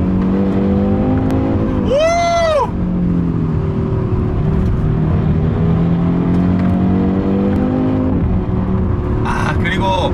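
An Audi RS3 with a five-cylinder engine hums steadily under load inside the car, close and loud, with rising revs and exhaust note at two points, while a person talks over it.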